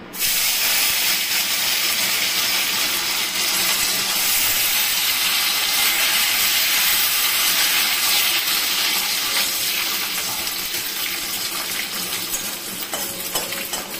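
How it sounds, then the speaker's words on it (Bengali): Cashews and raisins frying in hot oil for paneer pulao, a loud, unbroken hiss and sizzle held close for the whole stretch, with light metallic stirring clinks near the end. "তেলটা গরম হয়ে গেছে, এখন আমি কাজু কিশমিশটা একটু ভেজে নিব।"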